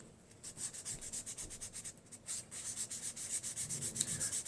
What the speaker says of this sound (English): Very light sanding. This is 400 paper.